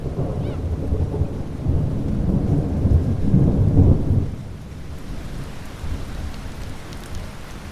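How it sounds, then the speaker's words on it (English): Steady outdoor rain falling, with a deep roll of thunder that swells over the first few seconds and then fades, leaving an even patter of rain with no voices. "Now I've been waiting and waiting for some rain, and it's finally here and I'm so excited."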